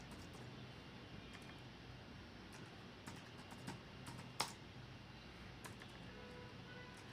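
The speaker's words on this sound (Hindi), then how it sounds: "एडी मु कुछ टाइप करी" Quiet typing on a computer keyboard, scattered soft key clicks at an irregular pace with one sharper tap midway, heard up close in a quiet room.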